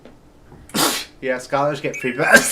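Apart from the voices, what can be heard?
sneeze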